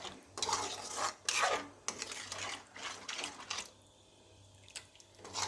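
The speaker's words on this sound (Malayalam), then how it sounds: "അപ്പം നല്ലോണം ഇളക്കി മിക്സ് ചെയ്യണം." Spoon stirring fish curry with tamarind water in a pot, a few bursts of scraping and sloshing separated by short pauses, close and fairly quiet.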